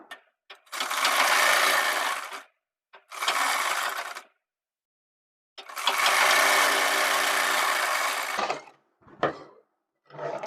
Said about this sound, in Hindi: तो यहाँ से हमें सीधी सिलाई लगानी है।